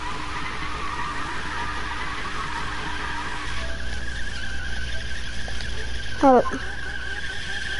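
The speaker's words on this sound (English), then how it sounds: "Spin your wheels." Tire squeal from a Lamborghini spinning its wheels, a sharp skidding screech rising over steady engine rumble near the end, with a brief voice nearby.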